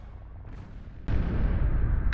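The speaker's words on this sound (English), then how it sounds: "Giant explosion, loud noises." A giant explosion in the video game XCOM Enemy Within during the final mission: a steady low rumble suddenly jumps to a loud, sustained roaring blast at about the midpoint that holds to the end, with no talking.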